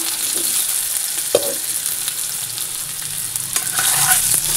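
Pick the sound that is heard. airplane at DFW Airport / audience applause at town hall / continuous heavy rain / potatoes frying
potatoes frying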